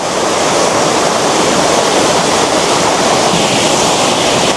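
A hidden mountain waterfall of clear water pours with a loud, steady roar that fills the space without a break.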